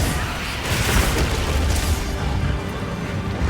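Dense, roaring blasts and rumbling booms from explosions and a fire-breathing monster in Monster Hunter Wilds, a continuous loud wash of noise with no clear breaks and no speech.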